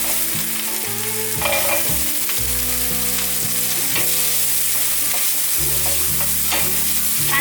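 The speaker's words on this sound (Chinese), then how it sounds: "翻炒至红萝卜变色" Shredded carrot and diced shiitake mushroom stir-fried in a pan: continuous loud sizzling with repeated spatula scrapes and tosses, over a low steady hum, no speech.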